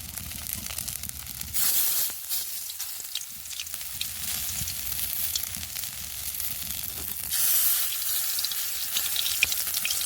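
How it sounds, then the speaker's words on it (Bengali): Pumpkin flower fritters fry in hot oil, producing a steady loud sizzle and crackle with brief surges as pieces are added or turned, close to the pan. "যেগুলো প্রথমে দিয়েছিলাম ভাজা ভাজা হয়ে গেছে, এবার আরেক পিঠ উল্টে দেব।"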